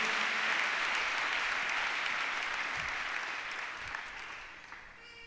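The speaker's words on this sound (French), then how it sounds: "Acclamons très fort Jésus." A congregation claps in sustained, dense applause during a church service, loud and steady at first, then slowly thinning and fading toward the end.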